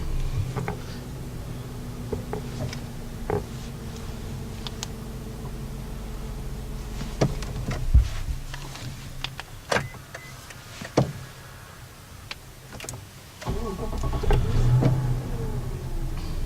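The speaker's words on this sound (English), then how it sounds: "I'm going to start the car back up here. And the mirror's going to go back out." A Lexus LS460 engine starts and idles while small electric motors whir briefly as the side mirrors fold out, with scattered clicks and knocks throughout.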